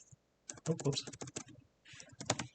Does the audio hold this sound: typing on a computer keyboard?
yes